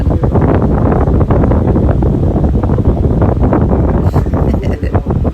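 An electric fan blows air straight across the microphone, making a loud, constant rushing buffet that holds steady throughout with no clear breaks.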